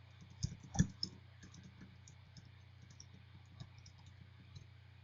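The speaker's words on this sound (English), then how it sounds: "Anyway, let's type it out." Fingers type on a computer keyboard while setting up a machine-learning development machine, producing soft, irregular key clicks with a couple of louder taps early on over a steady low hum, with no talking.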